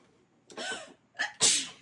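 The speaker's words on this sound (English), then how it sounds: "I can't stop sneezing" A person sneezes close by: a breathy intake builds, then a sharp, explosive sneeze bursts out, with nothing else heard around it.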